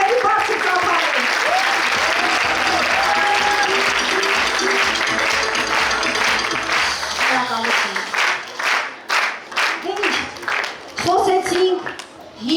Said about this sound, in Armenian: Եկեք մեզ շքերտի բոլոր մասնակիցներին ավելի բարձր ծափարել